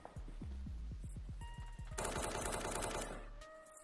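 Rapid automatic gunfire in a competitive video game match, heard as a quick run of sharp shots followed by a dense, loud burst of overlapping fire before it cuts off.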